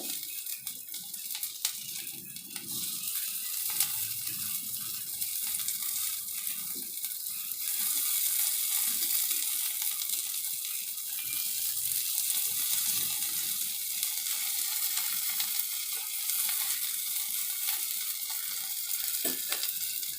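Potato pakoras frying in a pan, a long, even sizzling hiss with faint crackles throughout, close and steady, with no talking.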